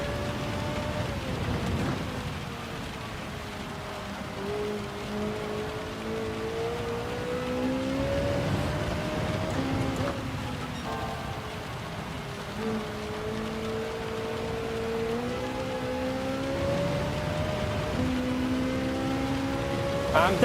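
A Ferrari engine revving high in third gear in heavy rain in Gran Turismo 7, a sustained rising and falling engine whine over steady rain hiss, loud and continuous, with someone talking over it.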